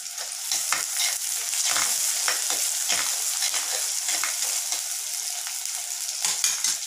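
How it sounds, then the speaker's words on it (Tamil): Onions sizzle steadily while being sautéed to golden for a karamani kara kulambu, with repeated scraping and stirring strokes of a spoon against the pan, close and loud, no voices. "வெங்காயம் போட்டிருக்கேன், கொஞ்சம் வதக்கிக்கலாம் பொன்னிறமாக."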